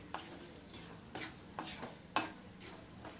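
Spices being stirred in hot oil for a carrot, ginger and green chilli instant pickle, with a spoon scraping the pan in several distinct strokes over a soft background sizzle.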